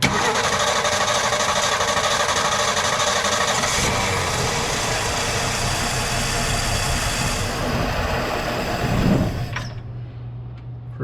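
A 1966 Ford Bronco with a rebuilt starter cranks and catches, its engine running loud and close with a steady rumble for most of the stretch before settling into a quieter idle near the end.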